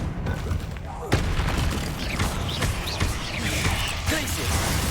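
The Confringo fire spell in Hogwarts Legacy goes off as booming explosive bursts amid dense game noise, with several sharp hits and rumbling impacts mixed under a voice.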